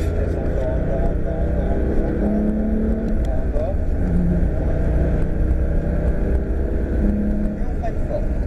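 A Porsche 997 GT3 on a circuit during a driving course accelerates from inside the cabin, with a steady low engine drone and occasional rising tonal sweeps, loud and continuous throughout.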